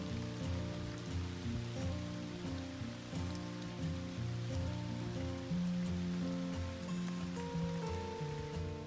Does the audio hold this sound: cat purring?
no